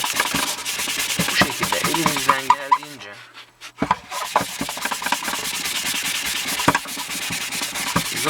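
Steady back-and-forth rubbing of 800-grit sandpaper on a Volkswagen Transporter T4 stop light lens, close and scratchy in quick repeated strokes, with a brief pause partway through before the sanding resumes.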